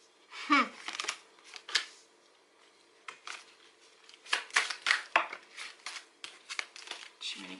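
A Gilded tarot deck is handled and shuffled close by in a series of quick riffling and flicking bursts separated by short pauses, with a voice talking briefly.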